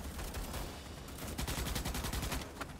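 Rapid bursts of automatic gunfire from a Starship Troopers: Extermination sci-fi shooter game, steady rattling shots running throughout at fairly low level, growing denser and louder in the second half.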